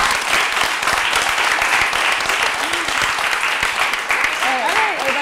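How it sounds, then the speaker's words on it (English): An audience applauds the Philly Youth Radio teen reporters, a steady broadband wash of clapping sustained for about five seconds, with a voice speaking briefly over it near the end. "stand up and thank you be applauded by the audience"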